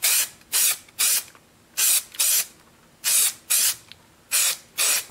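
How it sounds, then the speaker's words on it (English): 3M 90 high strength contact cement sprays from an aerosol can in about nine short hissing bursts, each roughly a third of a second, close and loud, with brief pauses between. "the contact cement I'm using is this 3M 90 high strength"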